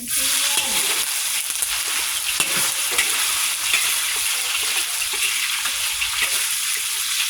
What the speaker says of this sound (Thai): ผัดลูกชิ้นหมูใส่หน่อไม้นะคะ